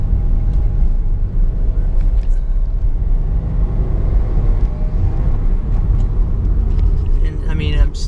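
A 2015 Subaru WRX engine at light throttle with the pedal barely pressed, a continuous low rumble from inside the car that stays steady throughout, with no clear bucking or bogging.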